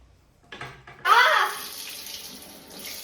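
Water gushes from a tap and splashes while hands are washed under it, starting abruptly and running steadily at close range, with a voice briefly heard around it.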